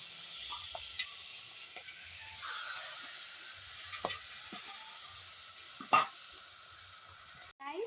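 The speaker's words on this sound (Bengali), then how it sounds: "কড়াইতে মাছের মাথাগুলো যে ছিল সেগুলো দিয়ে দেবো" Fish heads sizzle quietly in a hot pan, a steady frying crackle with occasional clinks and stirring scrapes, no voices.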